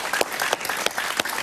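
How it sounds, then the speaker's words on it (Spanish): Studio audience applauding a guest on a Spanish-language evening talk show, a burst of close clapping with distinct sharp claps standing out over the crowd. "Un aplauso para él, por favor"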